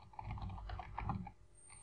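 Typing a sentence on a computer keyboard, with a steady run of soft key taps close by, then a quieter stretch near the end; nobody speaks.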